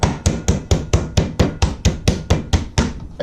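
A meat hammer pounds chicken breast flat on a board, about thirteen sharp, evenly spaced thuds close and loud, with nobody talking.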